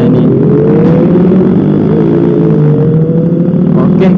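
A motorcycle engine runs steadily while riding on a Sunday group ride, a loud continuous drone with slowly rising pitch as it accelerates, close and dominant throughout.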